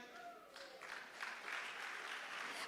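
An audience claps steadily, the applause swelling slightly and continuing throughout at a moderate distance.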